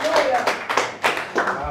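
A church congregation claps in irregular bursts during a sermon, with a few distinct slaps and short flurries mixed with voices.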